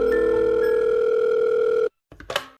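A steady telephone dial tone sounds loud and unbroken for almost two seconds on a call to a police station, then cuts off abruptly into silence followed by a brief rustle.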